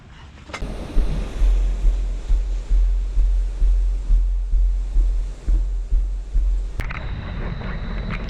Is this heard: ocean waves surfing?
yes